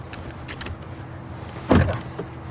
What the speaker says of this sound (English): Power door locks, standard, of course.